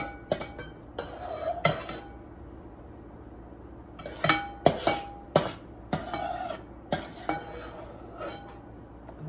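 A cooking pot is handled at a kitchen sink to soak, giving a string of close metallic clanks and clinks over a quiet room tone.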